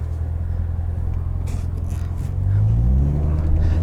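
A 2019 Chevrolet Corvette Z06 convertible with an automatic transmission, driven in track mode on cold tires, gives a deep steady engine rumble with road noise that swells louder as the revs climb partway through.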